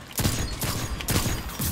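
Bursts of rapid sniper gunfire in a first-person shooter video game, several sharp loud cracks over a dense noisy game soundscape, with no talk.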